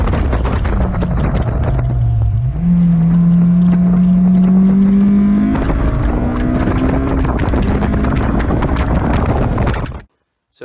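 A 2006 Honda S2000 drives a lap at Vancouver Island Motorsport Circuit, its engine droning loudly inside the car with buffeting wind, the pitch stepping up through the gears before the sound cuts off abruptly.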